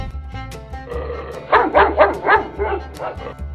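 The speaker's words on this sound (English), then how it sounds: "Wow, dog" A dog barks in a quick burst of four or five yips, close and clear, against a faint background hum.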